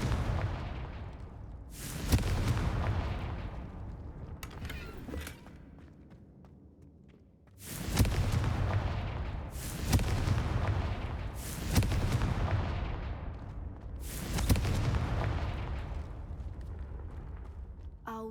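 Confringo fire-blast spells explode in Hogwarts Legacy as a series of about six heavy booms, each with a sharp onset and a rumbling decay, spaced a few seconds apart and loud and close over a low ambient background.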